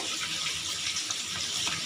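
Water runs steadily into a bowl of gram flour (besan) being mixed into batter for a besan bhindi dish, a continuous close splashing pour with no talk over it.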